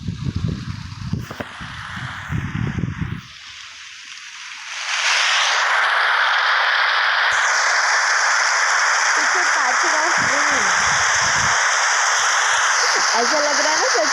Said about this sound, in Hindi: ऐसा लग रहा है ना सच में बारिश आ गई।